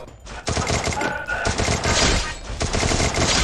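Gunfire in the battle royale game Free Fire during a 4v4 match: rapid, dense bursts of loud automatic shots in quick succession, nearly continuous throughout.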